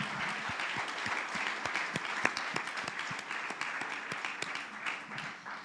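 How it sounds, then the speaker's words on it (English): An audience claps steadily in a hall, a dense, even patter of many hands at moderate loudness that carries on throughout. "we have to really clap for what South Sudan has done"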